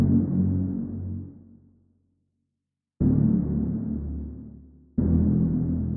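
Three sustained bass synth notes, made in Serum, each entering abruptly and slowly fading, with the first note dying to silence before the next two follow in quick succession.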